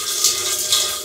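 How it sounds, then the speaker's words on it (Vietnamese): Water draining from an electric water heater tank during maintenance, a continuous close hissing, splashing rush with slight surges in flow. "Các bạn phải cố gắng đợi, cứ thao tác đợi chờ nước xả xuống này là rất lâu"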